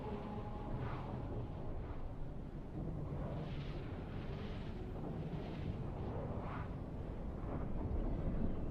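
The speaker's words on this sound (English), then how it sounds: "Some massive explosion right here," A massive explosion in the Dune: Awakening survival game, heard as a deep, sustained rumbling roar with rolling low-end surges that stays loud throughout.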